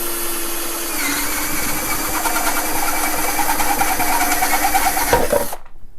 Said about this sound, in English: line up the tip of this hole saw right into the box